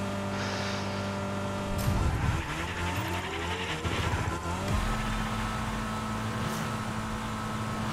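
Race car drifting in Fortnite with a sustained engine drone, shifting revs and loud tire skids and squeals, all at a steady close level.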